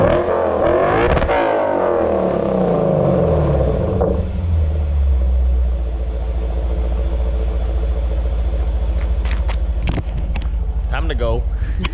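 Lexus RC F V8 on its stock exhaust revved hard in a sharp burst, rising and falling, then settling into a deep, loud idle rumble with a few brief blips near the end.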